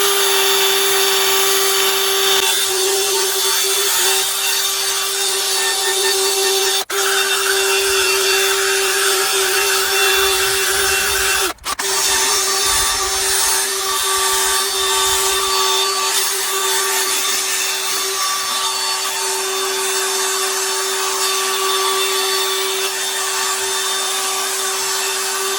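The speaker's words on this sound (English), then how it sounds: "I'm just going to speed the drill up now" A drill spins a polishing pad over a plastic headlight lens worked with Yorkshire Grit compound, giving a steady, loud whine with a constant tone and a grinding rub underneath, running continuously with a brief break midway.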